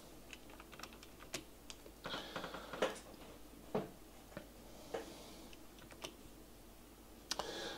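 A computer keyboard is typed on in short bursts of quiet, close key clicks with brief pauses between them, alone with no voice.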